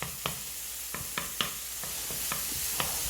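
Diced pancetta frying in a pan for rigatoni with zucchini and saffron, a steady close sizzle broken by sharp irregular ticks and pops, with no voices.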